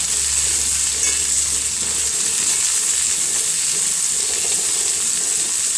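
Cauliflower sizzles steadily and loudly in a hot pan, an even crackling hiss that continues throughout.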